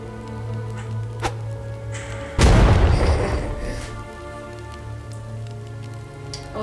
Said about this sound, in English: I'm gonna flash bomb some people.